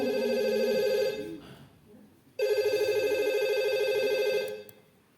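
A telephone rings twice in a comic stage sketch set in a military enlistment office, with loud sustained electronic trills split by a short gap and brief voices in between.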